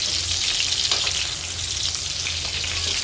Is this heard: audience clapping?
no